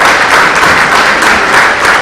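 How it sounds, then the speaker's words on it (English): Steady applause from a conference audience, a dense wash of clapping that holds at an even level for a couple of seconds without a break. "First, let's have a round of applause."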